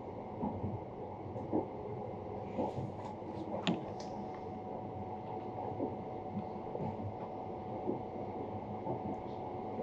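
Steady low rumble of the Saphir Odoriko sightseeing train rolling slowly along the East Izu coast at reduced speed, with occasional soft clacks and rattles, muffled as if heard from inside a carriage.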